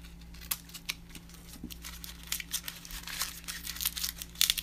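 Close, quiet crinkling and snipping as scissors cut open plastic mail packaging, with irregular small crackles building toward the end.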